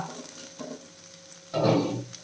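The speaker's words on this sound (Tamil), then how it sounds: "வெண்டைக்காவும் நல்லா வதங்கிடுச்சு வெங்காயம்லாம் நல்லா ஃப்ரை ஆகிடுச்சு" Okra and onion fried and stirred in a little oil for bhindi bhujiya, giving a continuous sizzle with a louder burst of stirring and crackle near the end.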